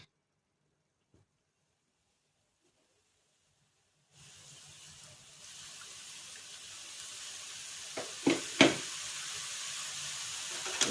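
Quiet at first, then a sudden loud sizzle as hot water is poured into a hot pan of prawn and jackfruit curry, hissing steadily with a few sharp spatters and clinks.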